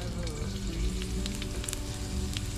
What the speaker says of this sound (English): Time to saute these two bad boys. A little oil. The ginger first.